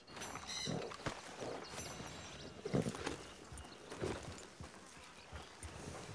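A horse's hooves clip-clop steadily in the game Red Dead Redemption 2, a soft rhythmic plodding under faint ambient game sound, with a few louder thuds along the way.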